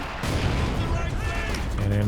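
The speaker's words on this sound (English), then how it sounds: "He does have his mortar softening up the pack." Mortar fire and battle noise in Company of Heroes 2, a dense layer of booms and gunfire rumbling continuously under a commentator's voice in a 2v2 match.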